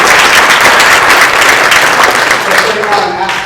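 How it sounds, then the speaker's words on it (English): A seminar audience bursts into sustained, loud applause, dense clapping from many hands that fades slightly toward the end, with some voices mixed in. "everybody should give a round of applause to Ken, to Marty, to Judy."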